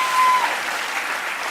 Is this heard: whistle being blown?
no